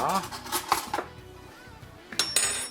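Vegetables being mashed in a pot with a spoon: clanking metal strikes and scraping against the pot in short bursts, with a pause in the middle before another clatter.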